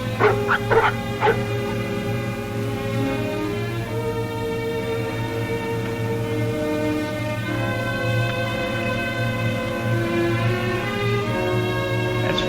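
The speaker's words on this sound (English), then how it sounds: "What in thunder is ailing those dogs?" Dogs whimpering and yipping in an old Yukon radio drama, a few sharp yelps at the start followed by sustained, close whining over a steady low hum.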